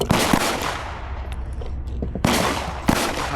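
Several sharp gunshots from a Python revolver at an outdoor shooting range crack out loud and close, spaced irregularly over a few seconds, with ambient noise between them.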